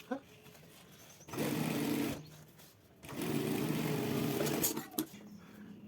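Two steady runs of a sewing machine stitching along a non-woven ladies' handbag edge, close and loud, separated by a short pause, with a voice talking faintly around them.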